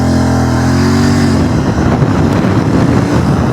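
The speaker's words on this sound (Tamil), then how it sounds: "Let start with 0 to 60. Exhaust note கேட்கும்னு நினைக்கிறேன் உங்களுக்கு." A powerful Royal Enfield motorcycle accelerates hard from 0 to 60 in first gear, its exhaust note rising in pitch from a throaty idle into a loud, close, roaring rev, tyres sliding.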